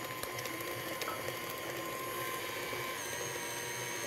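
A KitchenAid stand mixer beats eggs into chocolate truffle cake batter, running as a steady whirring motor drone with a faint rhythmic rattle throughout, alone and at moderate volume.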